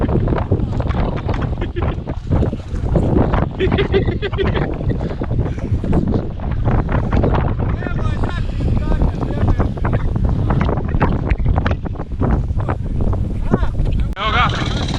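A dirt bike engine revs continuously and loud with wind buffeting the microphone, while a sibling coaching a sister learning to ride speaks over it intermittently.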